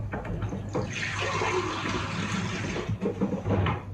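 Water pours steadily into a glass during home cookie baking, a continuous splashing fill that runs close and fairly loud for about four seconds with no talking.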